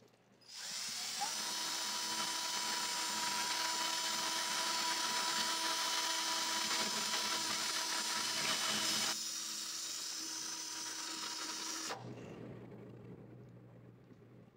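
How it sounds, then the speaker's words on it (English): A steady, loud electric drill whirs continuously for about eleven seconds, mixing cement with synthetic enamel paint in a churning texture, then cuts off and winds down. "Add it and mix again with the drill."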